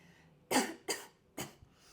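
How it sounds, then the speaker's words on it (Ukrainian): Three sharp, forceful coughs in quick succession, close and loud, separated by brief quiet pauses. "Просто от, спробуйте покашляти нагарно"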